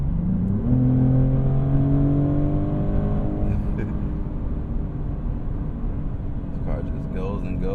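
Maserati GranTurismo Modena engine pulling hard on an interstate highway, a steady loud drone with a rising pitch that then settles into a smooth high-speed cruise under road noise.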